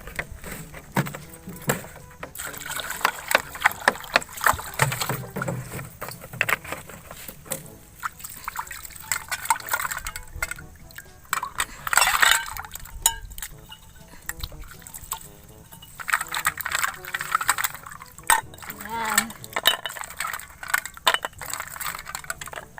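Mud clams rinsed in water in a mangrove setting, with continuous shell-on-shell clattering, sloshing and trickling, close and busy throughout with short pauses between bursts.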